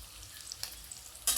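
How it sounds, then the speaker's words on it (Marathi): Chopped green chillies fry in a pan for rice vermicelli upma, a faint, close sizzle with a couple of light stirring scrapes and a sharper clink at the end. "त्याला हलवून घेऊ."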